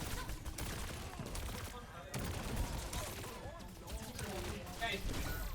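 Rapid gunfire bursts and weapon blasts from a competitive team shooter match between school teams featuring Sojourn and Echo heroes, dense and continuous under excited commentary.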